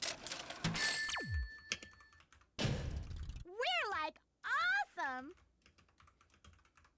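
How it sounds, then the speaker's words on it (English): Loud clacking keyboard typing in short bursts while playing Sonic Heroes, mixed with a sharp thud, a falling whine and bursts of chirpy, sweeping game sounds. "This is a loud keyboard, but I like it."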